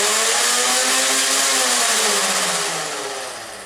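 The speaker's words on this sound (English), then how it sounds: "let's just hear the motors spool up and see how it sounds." Flywheel motors of a Nerf Ultra Amp blaster spin up with a loud, close, harsh whine, a dense buzzing roar whose pitch slides steadily and then begins to fade toward the end.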